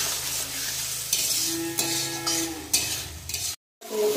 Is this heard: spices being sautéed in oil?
yes